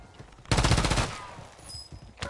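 A burst of rapid gunfire from a sniper in a video game, loud and close for about half a second, then a fading echo and a few faint clicks afterward.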